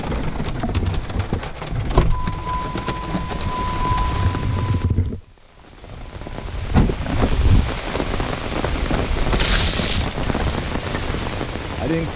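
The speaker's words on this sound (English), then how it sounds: "Well, it's really raining out." Heavy rain pours steadily and loudly on a campsite in Ohio, pattering on a surface, with a brief lull midway before the downpour resumes.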